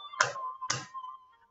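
Two sharp wooden clacks about half a second apart, close and fairly quiet, as a Kamishibai storyteller claps his wooden sticks together to announce a story.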